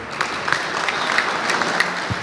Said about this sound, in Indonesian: tepuk tangan untuk Organda.